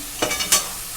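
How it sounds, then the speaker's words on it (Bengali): Chicken chowmein is stir-fried in an oiled wok, with two or three quick scraping tosses of noodles over a soft background sizzle, close and brief. "ভালো করে ভেজে নেব"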